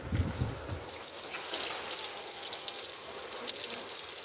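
A water pump runs a tailgate shower on a VW T5 camper van, a steady hissing spray of water pattering onto wood, with a brief low knock at the start and a voice murmuring faintly near the outset.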